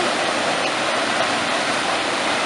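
Rushing water from rapids below a waterfall near Mezmay in the Apsheronsk district, a steady, loud broadband roar close by with no break and no voices.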